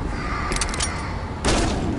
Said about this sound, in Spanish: ¿cómo puede, digo, explotar así de un disparo?